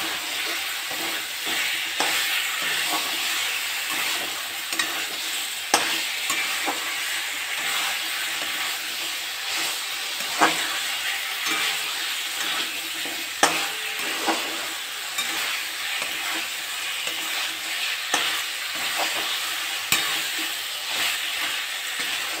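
Taro pieces fry with chicken in a pan for Bengali-style kachu chicken, a steady loud sizzle broken by repeated scraping clinks of stirring throughout, with no talking.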